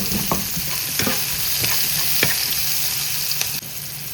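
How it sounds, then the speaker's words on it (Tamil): Idiyappam noodles stirred in a frying pan, a steady close sizzle broken by several sharp scraping clicks of the spatula against the pan at uneven intervals, with no voices. "இப்போ வந்து இது ஒரு 30 செகண்ட் கிளறி போட்டு"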